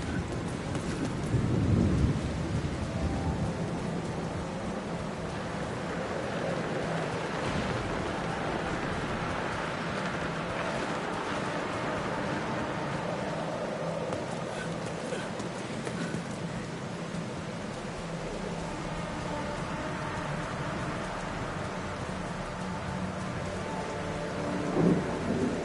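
Heavy rain and rolling thunder in the video game The Alters, a dense continuous downpour with deep rumbles building and fading over about twenty-five seconds, with no voices.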